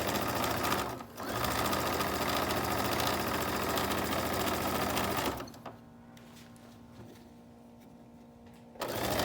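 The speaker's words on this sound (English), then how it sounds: "My sewing machine's about to squeak." A sewing machine sewing face masks runs steadily with a fast mechanical whir, stops partway through leaving a low hum, then starts again briefly at the end.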